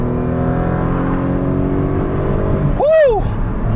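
A 2002 Renault Sport Clio V6 holds a steady, loud engine drone that swells into a sharp rising-then-falling whine as it pulls hard near the end, with no talking over it.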